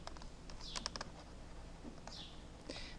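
Calculator buttons pressed to enter a math problem, a quick run of light plastic clicks and taps in bursts, close by in a quiet room.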